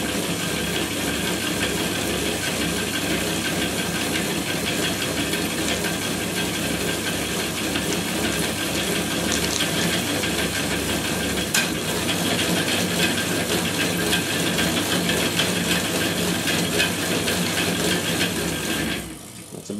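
A homemade permanent magnet generator driven by a bicycle spins freely at about 300 RPM. It gives a loud, continuous whirring drone with a hissy mechanical rattle that holds steady for nearly twenty seconds, then drops away at the very end.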